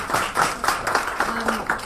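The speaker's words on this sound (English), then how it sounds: "we need a round of applause for that" An audience claps in a steady round of applause at a business talk, a dense patter of hands held at an even level for a couple of seconds.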